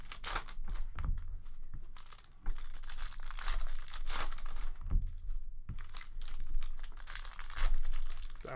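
Upper Deck Allure hockey card packs from a 2019-20 NHL case being ripped open one after another, loud crinkly foil tearing and crumpling in close, repeated bursts with no talking.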